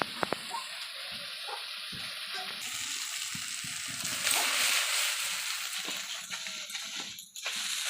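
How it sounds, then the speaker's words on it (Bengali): Small fish and potato pieces sizzle steadily in hot oil in a pan, a continuous close frying hiss with occasional pops and stirring scrapes, swelling louder midway. "আমার মাছ আলু সবগুলি মোটামুটি ভাজা হয়ে গেছে"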